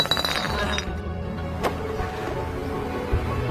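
A glass bottle clinks and rattles sharply during a fight scene, with a bright crash early on over a busy, steady background of noise and movement.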